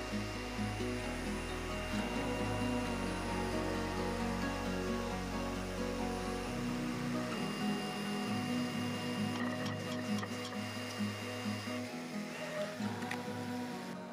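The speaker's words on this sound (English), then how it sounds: "cut out a template on my diode laser" A diode laser cutting out a knife template gives a steady mechanical hum and whir with shifting tones and faint ticking, continuous and fairly quiet, with no voices.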